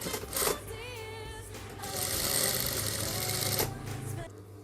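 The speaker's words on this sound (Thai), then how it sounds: "เราจะเย็บ ทั้งสองข้างให้เสร็จนะคะ" A sewing machine stitches a fabric face mask in a steady, whirring run of a couple of seconds, preceded by shorter bursts and a brief voice nearby.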